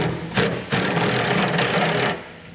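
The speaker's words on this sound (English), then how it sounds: "I'm also gonna use that 3/4 inch socket to tighten up the two bolts that are going around our frame rail" A 3/4 inch socket wrench tightens the two bolts clamping a Curt trailer hitch receiver to the frame rail of a 2012 Volkswagen Passat, giving steady grinding ratchet-like bursts up close, with no talking.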